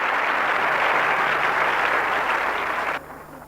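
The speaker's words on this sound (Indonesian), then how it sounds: "Tepuk tangan bagi Allah kita." Congregation applauding during a church sermon, a dense, loud burst of clapping that holds steady for about three seconds, then cuts off abruptly, leaving faint room tone.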